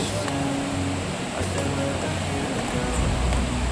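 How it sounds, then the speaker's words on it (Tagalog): A waterfall on farmland fed by a natural spring rushes in a constant, full wash of falling water, fairly close and loud, with no break across the short stretch. "Ito yung waterfalls."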